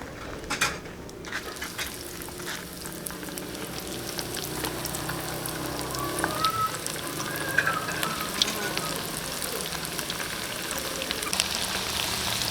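Liver balls frying in hot oil in a wok, a steady, close crackling sizzle that continues throughout with occasional light pops and faint utensil clinks.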